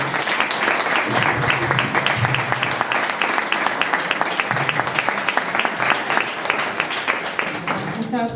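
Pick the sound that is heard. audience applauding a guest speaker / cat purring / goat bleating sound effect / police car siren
audience applauding a guest speaker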